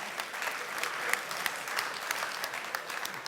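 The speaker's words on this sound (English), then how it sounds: "give you guys yourselves a round of applause" Applause from the audience at a partner presentation during a user conference in Vienna, a steady wash of many hands clapping together for a few seconds, fairly close and even, with no talk over it.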